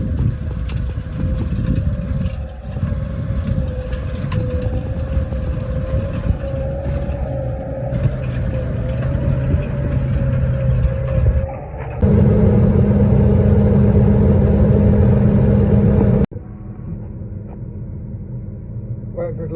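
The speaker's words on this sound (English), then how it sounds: "it's hardly, the engine's hardly working." A New Holland T7.315 HD tractor engine idles and runs under light load, a loud steady low rumble with a droning tone that shifts pitch and intensity partway through, with a person talking over it.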